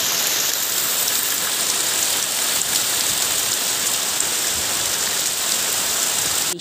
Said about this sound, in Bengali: বৃষ্টির শব্দটা তোমাদের জন্য ছেড়ে গেলাম, কে কে শুনতে ভালোবাসো অবশ্যই কমেন্টে জানিও।